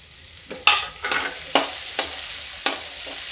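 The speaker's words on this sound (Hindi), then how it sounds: "मेरा तेल गरम हो गया है। हम इसमें लहसुन और प्याज डाल देते हैं।" Garlic and onion frying in hot oil, with a steady sizzle and several sharp stirring scrapes spaced through the clip, close and moderately loud with no talk.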